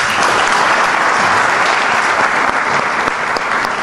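Loud, dense crowd applause at an outdoor memorial ceremony for Falklands (Malvinas) war veterans and fallen soldiers, sustained and even from start to finish with no voices over it.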